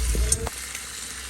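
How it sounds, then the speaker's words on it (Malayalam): Cooked beef tipped into a hot pan for Kerala-style beef roast, a brief thump and clatter at the drop, then a steady sizzle on its own. "ഇനി നമുക്ക് അതിലോട്ട് നമ്മുടെ വേവിച്ച ബീഫ് ഇട്ട് കൊടുക്കാം."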